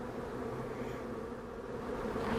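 Honeybees from a swarm that broke off the outside of the cluster after a storm, giving a low, steady, faint buzzing hum that holds evenly with no voices.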